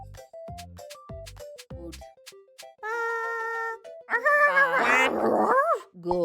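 A person imitates a dog with the voice, giving a string of short choppy barks, then a sustained tone, then a loud rough growl-like snarl, close and fairly loud.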